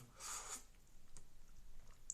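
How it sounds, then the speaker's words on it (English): Someone chewing a mouthful of spaghetti close to the microphone, with soft wet squishy chewing sounds and a few brief smacks at low volume. "The fact that you have to hear me chew"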